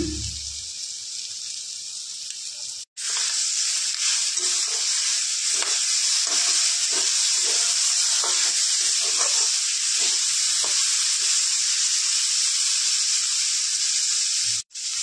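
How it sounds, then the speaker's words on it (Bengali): Food frying in a pan with ginger paste and salt, a loud continuous close sizzle and hiss with occasional stirring scrapes, briefly cutting out twice, no voices. "একটু ভালো করে ভেজে নেব।"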